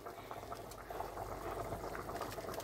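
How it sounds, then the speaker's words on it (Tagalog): A pot of water at a rolling boil before cabbage goes in, a soft continuous bubbling and hiss heard up close and fairly quiet, steady throughout with no speech. "Ayan, kumukulo na."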